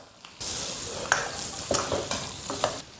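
Pork stir-fries in a wok with ginger, scallion, garlic and chili added, a loud close sizzle punctuated by several sharp spatula scrapes and clinks over about three seconds.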